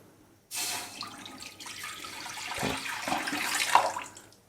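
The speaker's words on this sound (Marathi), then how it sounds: "त्यासाठी मी हा पॅन ठेवलेला आहे त्याच्यामध्ये मी थोडंसं पाणी ॲड करत आहे" A little water is poured into a pan to steam amla (Indian gooseberries), making a steady, close splashing pour that starts abruptly and runs for about four seconds without talk.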